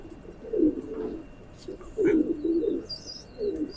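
A teddy pigeon coos in low, throaty bursts, three repeated phrases close by, with a few faint chirps from other birds in the background.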